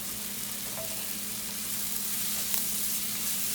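Onions and tomatoes cooking in a pan with turmeric and salt make a soft, even sizzle with a low steady hum under it and a few faint stirring touches, with no voices.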